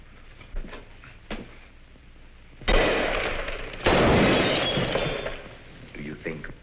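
Gunshots in a 1948 film-noir, two loud bursts with long rough decays over an old, noisy soundtrack, with a few fainter knocks and thuds between them.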